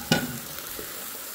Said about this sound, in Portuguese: Vou mexer um pouquinho,